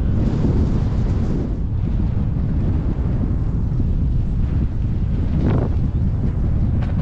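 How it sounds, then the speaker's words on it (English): Steady wind buffeting the microphone, a constant low rumble and roar throughout with no voices. "It's a little windy and cool"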